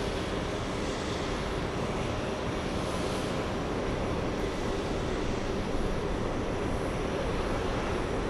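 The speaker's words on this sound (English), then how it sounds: "Big 777, we have the British Speedbird 175 landing right now." A British Airways Boeing 777, Speedbird 175, comes in to land, its engines a steady, broad roar that holds evenly loud throughout with no talk over it.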